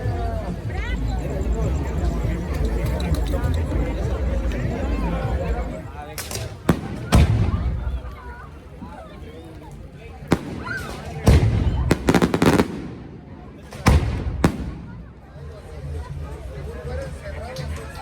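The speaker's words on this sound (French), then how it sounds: "J'ai déjà vu des feux d'artifice, mais c'est la première fois que j'en vois un direct au-dessus de moi" Several sharp, loud fireworks bursts directly overhead pop at irregular intervals over a steady crowd hubbub at Day of the Dead celebrations in Oaxaca, with people chattering throughout.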